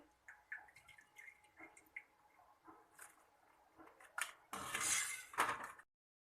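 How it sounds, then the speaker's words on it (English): Fried puris are lifted from oil with a metal spatula into a bowl, making soft scraping and clinking of utensil on pan with faint drips. A louder clatter and rustle comes near the end, then silence. "I am taking it to spatula like this, and I will drain the oil and I will keep it to separate bowl"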